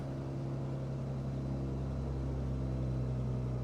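Steady, continuous drone of a light aircraft engine idling at around 1200 RPM in Microsoft Flight Simulator, with a low, even hum and strong harmonic tones held throughout.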